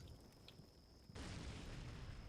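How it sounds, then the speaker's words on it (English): A secondary explosion in a realistic tactical war video game arrives as a sudden broadband blast after a quiet stretch with a faint steady tone. The roar then holds as a sustained rumble, distant and fairly faint. "That's secondary explosion there"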